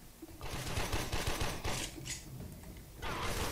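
Gunfire from a backward jumping shot in the video game Warframe, quiet bursts of rapid rattling shots with short pauses, loudest near the end.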